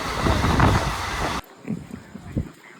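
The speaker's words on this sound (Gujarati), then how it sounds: "ફાઇનલી જો આપણી ટ્રેન અહીં આવી ગયેલી છે" A passenger train on the Bhavnagar to Botad line rumbles loudly at a station for over a second, then cuts to quieter scattered clatter and thumps.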